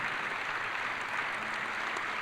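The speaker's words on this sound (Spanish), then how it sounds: "yo creo que merece el aplauso una provincia que lo hace ley" An audience at a public event applauds a province, a continuous, moderately loud spread of clapping from a crowd, even and unbroken with no speech over it.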